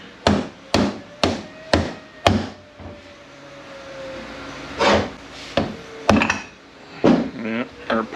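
Rubber mallet knocking the stator out of a ZF6HP28 automatic transmission, a string of sharp, close blows at an even pace, followed by scraping and metallic clatter of parts being shifted.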